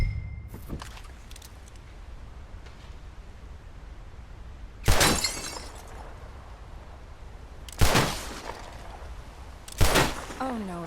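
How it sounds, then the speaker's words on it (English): Gunshots in Red Dead Redemption 2, heard as three loud, sharp reports spaced a few seconds apart, each with a brief echoing tail, over quiet ambient background. "I'll shoot a few more this time."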